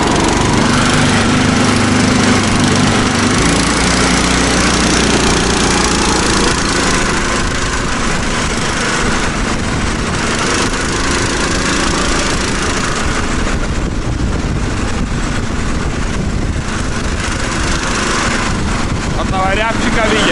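Lifan engine on a motor tricycle runs steadily throughout with a dense, buzzy drone, close and loud, the tone shifting slightly as it goes.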